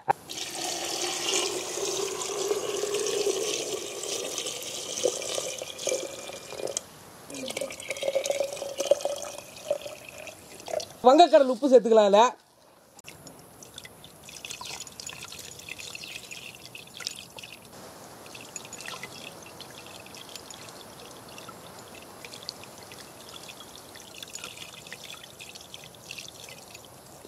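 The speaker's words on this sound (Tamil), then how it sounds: "இதில் வந்து பச்சை தண்ணியை தாங்க ஊற்ற போகிறோம்" Plain water is poured into a glass during home cooking, with soft trickling and splashing and a short gurgle that rises in pitch as it fills, followed by a quieter wash of sound. A voice speaks briefly.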